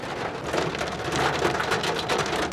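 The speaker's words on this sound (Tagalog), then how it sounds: "Ayan, maliliit na hail." Heavy rain pours down mixed with small hail, a dense, steady hiss and patter of drops and pellets striking surfaces, loud and close with no break.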